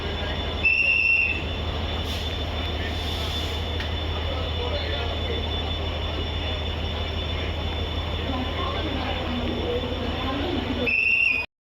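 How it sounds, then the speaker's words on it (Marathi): Steady rumble and clatter of the Tutari Express rolling on rails on the Konkan Railway, heard from a general coach, continuous and loud throughout, with faint high squeals near the start and end. "आता आम्ही ना ट्रेनमध्ये चढलो"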